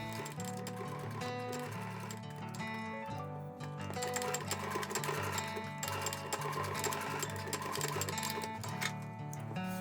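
A sewing machine stitches elastic band to fabric at close range, a steady, rapid mechanical ticking with brief stops and restarts, quiet and with no talk.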